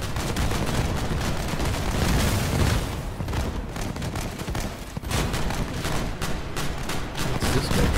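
Grenadier weapons fire in the vehicle combat game Crossout, a dense, loud barrage of booming blasts and crackling shots that runs continuously throughout with no pauses.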